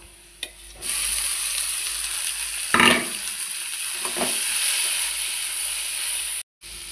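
Steamed water spinach goes into a pan of fried onions, setting off a hissing sizzle with a couple of louder bursts of stirring and crackle, steady and close, with no talk.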